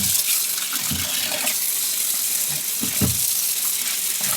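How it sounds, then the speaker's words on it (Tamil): Fresh mangoes being washed under water, with running water and splashing, sloshing bursts close by, heard on its own without talk. "முதல்ல இந்த பழத்தை எல்லாம் எடுத்து கழுவிக்கலாம்"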